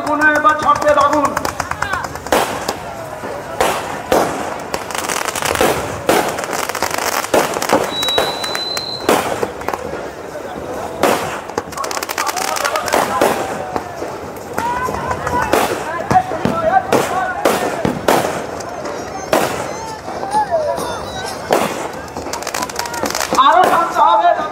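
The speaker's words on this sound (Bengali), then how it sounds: "ওপারে যারা বাজি দায়িত্বতে আছেন তাদেরকে অনুরোধ করছি আপনারা ওপারের বাজিগুলো এবার ছাড়তে থাকুন।" Fireworks set off across a river at a Bera festival in Lalbagh, with repeated sharp bangs and crackling bursts through the whole stretch over a busy crowd, and people talking and calling out throughout.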